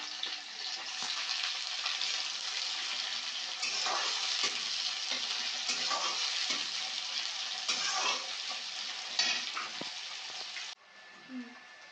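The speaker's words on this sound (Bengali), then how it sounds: "পেঁয়াজটা ভাজা ভাজা হয়ে এসেছে" Sliced onions fry in hot oil with whole garam masala, bay leaves and dried red chillies for Bengali chicken kosha, a steady loud sizzle broken by repeated scrapes and stirring clatter throughout, with no talk.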